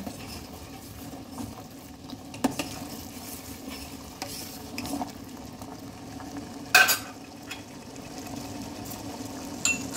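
Sugar syrup with three or four crushed green cardamom pods being stirred in a pan, a soft bubbling simmer under scattered scraping strokes and a few sharper clinks of the spoon against metal, close by with no voices.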